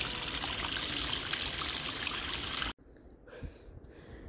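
Mountain stream water on an Andean trail trickles and rushes loudly and steadily, then cuts off abruptly, leaving quieter irregular splashing and trickling.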